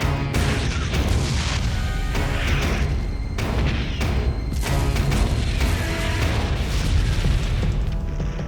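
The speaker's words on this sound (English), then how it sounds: "unleashes a massive naval bombardment. All of a sudden, they started firing." Massive WWII naval bombardment off the Normandy coast, with warship guns such as a British cruiser's 6-inch guns firing: continuous loud booming blasts and crashes overlapping densely with no pauses.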